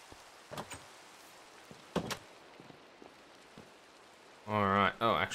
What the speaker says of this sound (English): Refreshing rain.